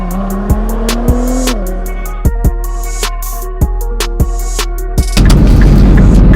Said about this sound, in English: We are in the 2017 Nissan GTR